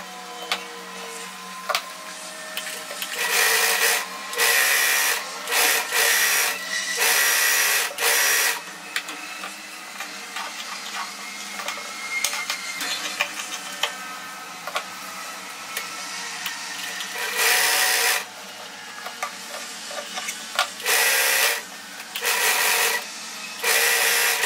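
A sewing machine zigzag-stitches the side seams of a frock, running in short, fast bursts of rattling needle action separated by brief pauses, close and fairly loud.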